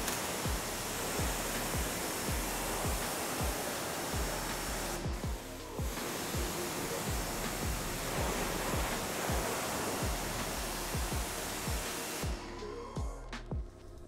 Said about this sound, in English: we'll use our pressure washer here to blast it off